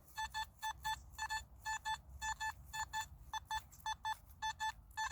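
A Nokta Simplex metal detector at full sensitivity gives a solid target signal out in a field: crisp, bright electronic beeps in quick pairs and short bursts, repeating steadily over a low rumble of background noise.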